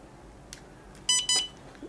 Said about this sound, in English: It does beep. There are audio cues that tell you when it's charging or when there's an error.